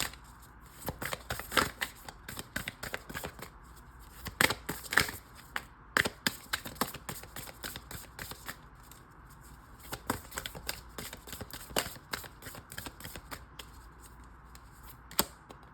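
Tarot cards being shuffled up close, a dense run of crisp riffling flicks and snaps with slightly louder cuts scattered through, held steady over a faint background hiss.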